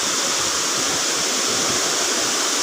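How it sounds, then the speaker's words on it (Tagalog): Daranak Falls roars with heavy water, a loud, dense and steady rush that fills the whole stretch, close and continuous, with no talk. "Natatakot ako pag ganito kalakas yung tubig."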